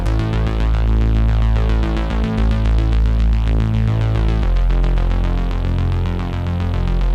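Synthesizer bass lines in a pop dance track for a drag competition show, a dense sustained throbbing low end under a full synth mix that plays loud and unbroken with no voices.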